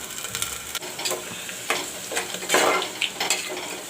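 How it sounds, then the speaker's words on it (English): Onions and curry leaves frying in oil for moong dal, a close crackling sizzle with irregular stirring scrapes and a burst of spitting as the leaves hit the pan. "Let the onions turn brown, little gold. Friends, put in the curry leaves."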